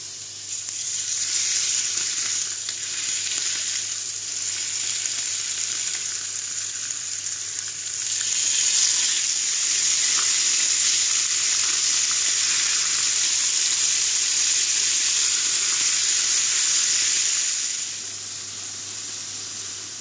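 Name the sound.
zucchini with spices being stirred and stewed in pan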